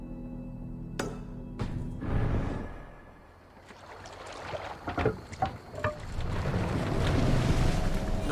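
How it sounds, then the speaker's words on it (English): Sail being raised on a Viking longship in Assassin's Creed Valhalla, with creaking rigging and canvas flapping over steady wind and sea wash that swells toward the end. "raising the sail here"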